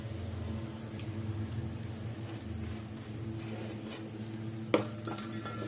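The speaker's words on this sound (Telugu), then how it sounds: "మాడిపోకుండా మంచిగా వేపుకోవాలి. మంచి గోల్డెన్ కలర్ వచ్చేదాకా వేపుకోవాలి." Grated carrot frying on low heat in a pan, a steady soft sizzle under a constant low hum, with a sharp utensil clink against the pan near the end.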